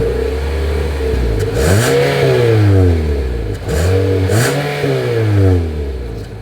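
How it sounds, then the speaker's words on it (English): Dual exhaust on a 2023 Nissan Altima revved twice from idle, each rev rising and falling smoothly in pitch, close and fairly loud with no talking. "Here is that exhaust clip."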